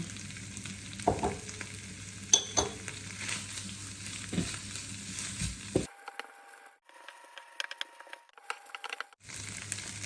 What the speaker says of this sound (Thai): ตามด้วยใบมะกรูดเลย รู้สึกว่าเขาจะแห้งไปนิดนะนี่จะเติมน้ำมันอีกหน่อย